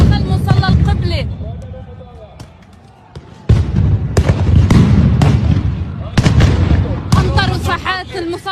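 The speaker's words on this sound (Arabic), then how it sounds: "في داخل المصلى عم يطلقوا قنابل الصوت داخل مصلى القبلة" Stun grenades burst inside the Qibli prayer hall of Al-Aqsa Mosque, several sharp, loud booming blasts that echo through the hall, mixed with shouting and agitated voices.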